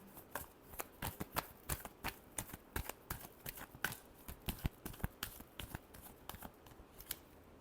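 Tarot cards being shuffled by hand, a quick run of crisp, sharp riffling snaps repeating in an uneven rhythm, close and fairly quiet with no talk.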